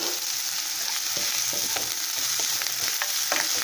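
Six crushed garlic cloves fry in a pan for a boti curry, giving a steady close sizzle broken by scraping clicks of stirring throughout.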